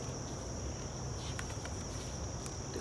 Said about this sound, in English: You're a cricket.